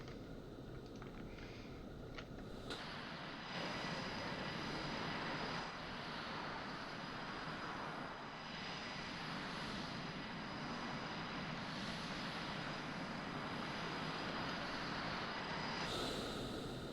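Droning aircraft engine of an AC-130 gunship in Call of Duty, a steady loud broadband roar holding throughout after a brief quieter start.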